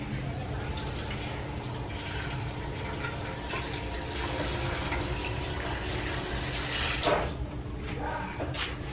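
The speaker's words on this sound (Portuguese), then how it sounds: "Vou colocar água." Water runs into a cooking pot holding broccoli, a steady close gushing fill with a few brighter splashes toward the end, and no talk over it.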